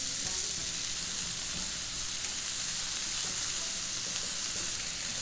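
Onion sizzling steadily in a frying pan over medium to medium-high heat, a dense, continuous crackling hiss that stays loud and even throughout, with no talking.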